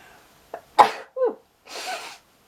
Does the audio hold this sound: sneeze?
yes